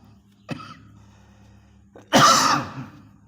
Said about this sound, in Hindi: सॉरी खांसी परेशान कर रही है